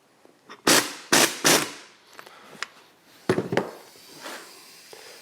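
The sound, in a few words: pneumatic air gun undoing a gearbox nut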